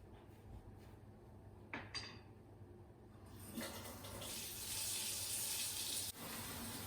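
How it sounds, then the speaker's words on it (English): Kool-Aid dyed wool yarn rinsed in warm water at a sink: faint handling clunks and splashes, then a steady rush of running water that swells and continues, quiet and close. "rinse it with the same temperature water that it's already in"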